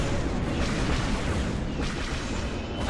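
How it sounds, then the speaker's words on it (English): Dense, rumbling explosions and blasts fill a space battle in a video game as lasers fire and torpedoes chase a ship, a continuous loud roar with bursts layered throughout. "Just a laser fire and the torpedoes chasing after it."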